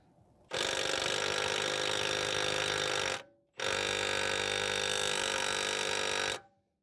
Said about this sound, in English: So now we're just gonna remove the 24 mil nut that's holding against the ball joint